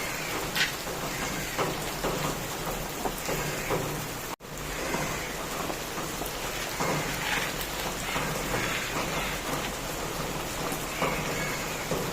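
Steady rain falling outdoors, a dense even hiss of drops hitting surfaces that continues throughout with only a momentary break, no voices heard.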